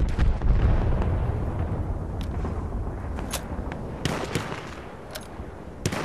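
Artillery explosions in Battlefield 1 combat: a heavy boom opens, its rumble decaying over the next seconds, with several sharper cracks and distant blasts scattered through the rest, fairly loud and without talk.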